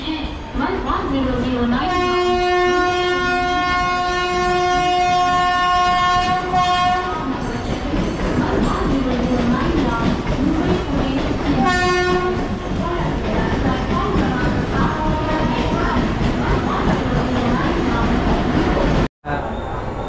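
Trains at Thane railway station: a loud, sustained train horn sounds twice over a steady rumble and rattle of rolling carriages close by, with crowd noise and voices mixed underneath.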